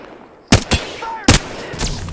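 Weapon fire in the video game Apex Legends: two sharp, loud close bursts about a second apart, each with quick follow-up shots and a short tail, with no talking.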